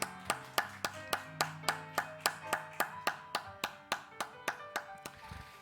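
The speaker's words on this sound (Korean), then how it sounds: "박수로 축복하시겠습니다" Applause at a church service comes as a single even run of about sixteen sharp claps at a steady beat, clear and alone with a faint tonal hum behind.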